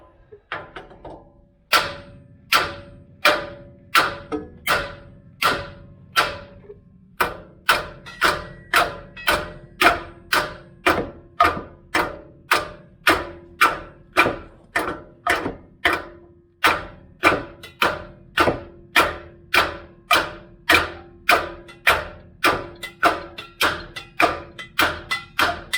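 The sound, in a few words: hammer tapping on a seized nut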